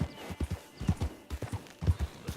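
Horse hooves clip-clop in Red Dead Online, a steady trotting rhythm of about a dozen crisp, close hoofbeats in pairs, with no voices.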